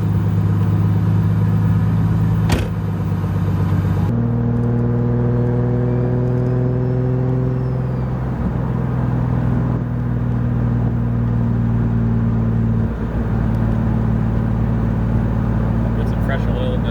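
A BMW E36 with a turbocharged M52 engine runs hot at a steady, loud idle, its low rumble holding throughout with small shifts in pitch partway through.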